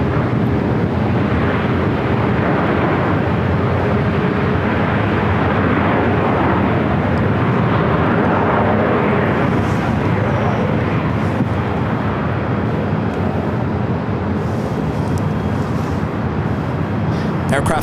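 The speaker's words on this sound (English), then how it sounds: "this is Emirates Flight 216 heading back to Dubai in this A380 Super" Emirates Airbus A380 taking off at Los Angeles airport, a loud continuous roar of jet engines with heavy wind rumble, steady throughout and heard from outdoors.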